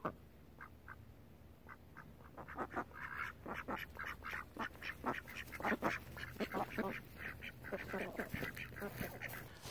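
A group of ducks quacks steadily in a backyard. Rapid, overlapping calls come close by for the whole stretch, some single and some in quick clusters, with no talking over them.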